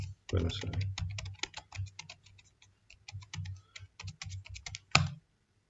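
Keys clatter on a computer keyboard as router command-line text is entered, a close run of quick, uneven taps with short gaps and one sharper keystroke near the end.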